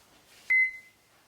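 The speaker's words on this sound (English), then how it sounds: "So I'm going to melt that in the microwave" Microwave oven melting butter gives one sharp electronic beep, loud and close, lasting under half a second in a quiet room.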